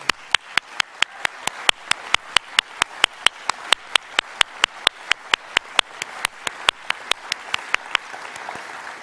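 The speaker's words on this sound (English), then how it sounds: "give them a huge round of applause" Audience applause for award nominees at a Northern Territory Australian of the Year ceremony, with sharp, evenly spaced loud claps from one nearby clapper standing out over the softer crowd clapping for about nine seconds.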